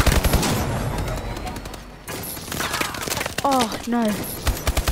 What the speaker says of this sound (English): Oh, someone's firing.